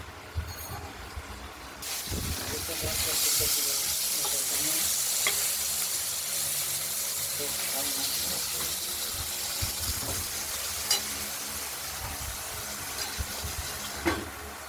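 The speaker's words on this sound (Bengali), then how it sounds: "মাছগুলো আমরা একবার উল্টে দিলাম, দিয়ে ঢাকা দিয়ে দিলাম, ভাজা হতে থাকুক" Pieces of katla fish frying in a covered pan, a steady muffled sizzle and hiss with occasional clicks of utensils, the sound swelling after a quiet start and continuing without speech.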